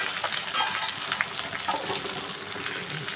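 A thin hilsa fish curry with eggplant, potato and green chilli simmers on a gas stove, with a steady soft sizzle and bubbling and occasional faint clinks.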